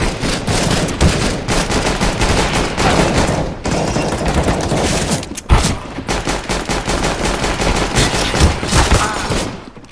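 Dense AK rifle gunfire in Counter-Strike: Global Offensive, loud and continuous, with layered rapid shots and brief pauses.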